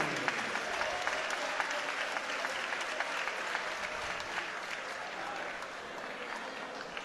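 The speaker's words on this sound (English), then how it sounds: "please keep your applause going as well for her competitor, Chrystal." An MMA event crowd applauds a fighter after a submission win, sustained dense clapping from a large audience heard at a distance, with crowd murmur underneath.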